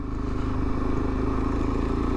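A Suzuki Van Van motorcycle fitted with a 550 high-compression CCM motocross engine idles with a steady, even throb, close and alone.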